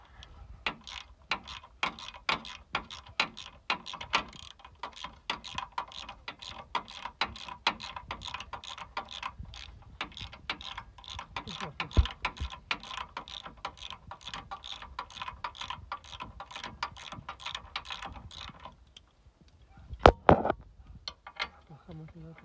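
A wrench ratchets on a size 14 bolt in rapid, even clicking strokes that run steadily for most of the stretch, then pause before a few louder metallic knocks at the end.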